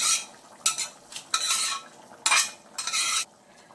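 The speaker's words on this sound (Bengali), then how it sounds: "এখন আমি ভেজে রাখা ডিমগুলো এর মধ্যে দিয়ে দিচ্ছি" A spoon stirs fried eggs into a simmering potato curry in a pot, making five or six distinct scraping strokes in an uneven rhythm, close and fairly clear against a quiet background.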